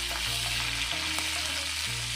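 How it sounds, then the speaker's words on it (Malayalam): Dried chilies, green chilies and curry leaves frying in hot oil in a pan for a Kerala green peas curry, a steady close sizzle with light stirring scrapes, no talking. "വറ്റൽമുളക്, പച്ചമുളക്, കറിവേപ്പില ഇത്രയും കൂടി ചേർത്തൊന്ന് ഇളക്കുക."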